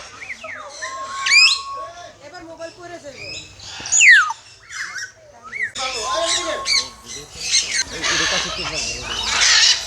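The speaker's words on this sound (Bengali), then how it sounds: "তো এই মেকাওগুলো অনেক সুন্দর" Loud, harsh macaw squawks burst out repeatedly at close range, shrill and raspy, with people talking in the background between calls, at a safari park in Gazipur, Bangladesh.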